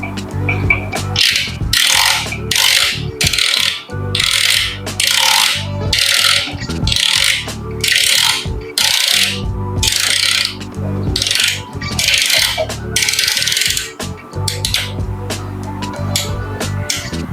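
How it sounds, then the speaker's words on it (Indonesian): KUIS coffee grinder's adjustment dial being turned toward the fine setting, giving repeated loud rasping, ratcheting clicks in bursts roughly every second, close up with no talking. "kita tekan lalu kita putar berlawanan dengan searah jarum jam atau ke arah fine. Oke, kita putar terus."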